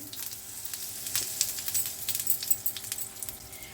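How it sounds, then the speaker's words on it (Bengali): Cumin seeds and asafoetida sizzle in hot oil over a high flame, a bright crackling fizz with rapid popping bursts that grows busier partway through. "এখানে আমি সাদা জিরে ছোট চামচের হাফ চামচেরও কম দিলাম সাথে একটু হিং দিচ্ছি ফ্লেমটা কিন্তু আমাদের হাই আছে"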